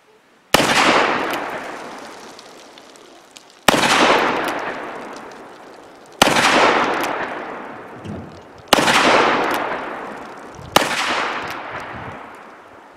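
An Uberti 1873 Cattleman single-action revolver firing 45 Colt cartridges outdoors: five loud, sharp shots, each ringing and decaying for a couple of seconds, come at an unhurried, roughly even pace, with a faint click between two of them.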